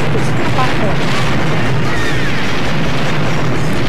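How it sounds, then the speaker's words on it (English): Bomb explosions in Mario Kart Wii online racing: loud, continuous booming blasts piling together into a dense roar, with a voice speaking over them. "That is a lot of bomb explosions."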